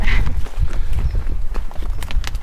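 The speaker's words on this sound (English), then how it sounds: "We still have proper modes of transport known as horses." Hooves of a horse passing on a rural road clop in a quick uneven rhythm, fairly loud and near, over rumbling wind and outdoor background noise.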